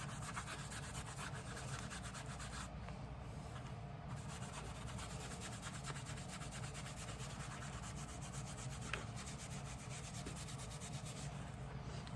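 An Allen Edmonds Hastings leather shoe is scrubbed vigorously with acetone, a continuous fast back-and-forth rubbing and scratching, faint but steady throughout with no pauses.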